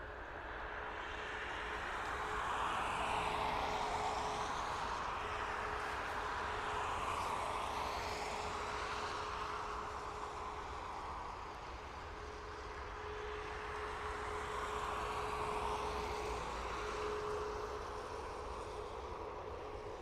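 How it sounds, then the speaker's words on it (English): A Ryanair airliner departing for Salzburg from Dublin Airport roars at a distance, a broad engine rumble with a steady whine that swells, eases and swells again as it climbs away, with no voices. "Ryanair off to Salzburg."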